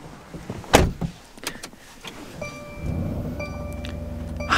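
A Mercedes-AMG GLC 63 S performance SUV starts up from inside the cabin. A few sharp clicks and thumps come first, then the engine catches and settles into a deep, steady idle rumble close by.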